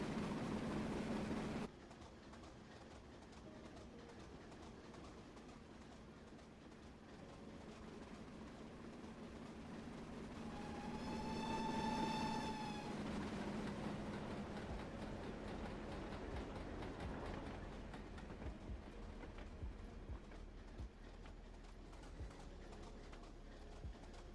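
A locomotive runs on the Buchan Line between Aberdeen and Peterhead in Train Sim Classic: a quiet, continuous rumble of rolling stock with a brief whistle-like tone in the middle, no speech.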